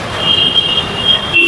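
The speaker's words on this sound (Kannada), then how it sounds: "ಮೇಲೆ ಎಲ್ಲ ಟ್ರೈನ್ ಐತೆ." A train rolls across a bridge overhead while someone walks underneath it, giving a steady close rumble with a sustained high metallic wheel squeal that runs throughout.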